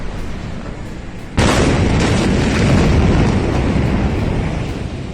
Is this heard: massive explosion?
yes